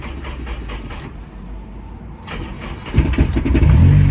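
A Toyota MR2 Spyder with a swapped JDM K24A engine cranks and catches, a low rumble building to a loud, close idle roar toward the end, with no talking.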